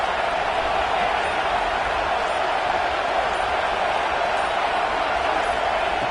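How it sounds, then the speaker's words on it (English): A college football video game plays the home stadium crowd at Arkansas: a constant, loud, broadband roar of fans that stays steady and fills the whole stretch. "It's early, but this crowd is fired up. Listen to this noise here."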